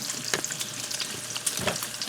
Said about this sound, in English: I'm frying bacon.